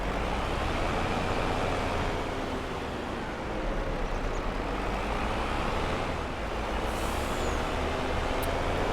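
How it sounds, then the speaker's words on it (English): A truck driving in Farming Simulator 22, its engine a steady, loud broadband drone with a low rumble that dips briefly mid-way, a short hiss of air brakes near the end. "Let's get in our truck"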